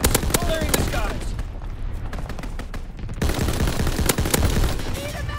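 Anti-aircraft salvo in a war video game: continuous heavy gunfire with sharp repeated cracks and booms throughout, loud and dense, with a brief lull midway before the barrage resumes.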